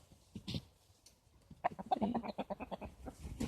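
Chickens cluck in a backyard coop during a March check on the flock, with a quiet stretch first and then a busy run of close, repeated clucks and squawks.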